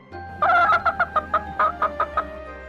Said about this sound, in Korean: 이번에는 닭이 쫓아나와